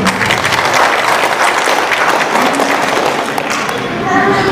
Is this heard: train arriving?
no